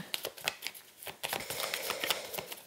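Tarot cards are shuffled by hand for a cross spread, a quick series of close, crisp riffling bursts and soft flicks repeating over a few seconds.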